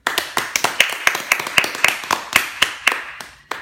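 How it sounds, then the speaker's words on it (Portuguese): A small group claps in a quick, even rhythm of sharp, close claps for a few seconds, with no talking over it. "nós vamos aplaudir de volta"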